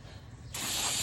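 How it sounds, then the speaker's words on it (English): Brake cleaner aerosol is sprayed onto a new brake rotor during a pad and rotor change, a sudden sharp hiss bursting in halfway through after a quiet moment and continuing to the end. "Spray them brake clean."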